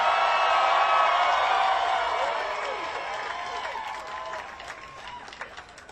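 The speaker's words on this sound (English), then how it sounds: "I hope those who are watching on live stream can see and sense this is a big, boisterous crowd" A big, boisterous crowd at Tim Burton's Hollywood Walk of Fame star ceremony cheers and applauds loudly at first, whoops ringing out, then slowly thins and fades to scattered claps and voices.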